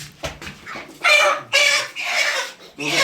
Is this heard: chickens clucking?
yes